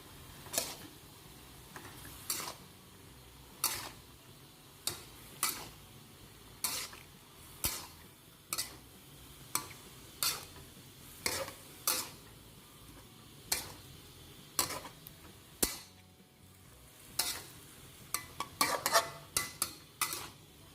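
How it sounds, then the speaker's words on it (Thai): Napa cabbage and enoki mushrooms being stir-fried with soy sauce and oyster sauce, a spatula scraping and clinking against the pan in regular strokes roughly every second over a low sizzle, with no talking. "ซีอิ๊วขาว น้ำมันหอย ก็ผัดคลุกเคล้าส่วนผสมทุกอย่างให้เข้ากันดีเลยค่ะ"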